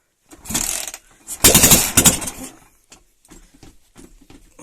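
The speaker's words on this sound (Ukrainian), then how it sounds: "запустився тільки що двигун" A motorcycle's MT engine with ignition problems sputters to life on its first start and revs loudly for about a second, then drops to an uneven, faltering idle with intermittent pops.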